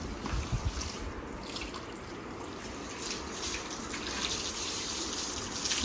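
Water running steadily while things are washed in a village home, a continuous rushing, splashing flow with faint background activity and no clear speech.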